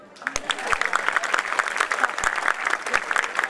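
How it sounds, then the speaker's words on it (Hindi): Audience at a Hindi poetry recital (kavi sammelan) breaking into applause, many hands clapping in a busy, uneven patter with a few sharper claps standing out, fairly close and lively, with voices underneath. "समर्थन मतलब तालियां बजा"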